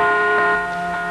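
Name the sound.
bells ringing out in celebration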